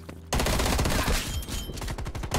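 Rapid automatic gunfire in an online shooter game, a dense burst of close, punchy shots rattling almost continuously for about two seconds after a short quiet lead-in.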